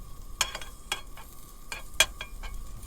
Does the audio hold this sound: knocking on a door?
no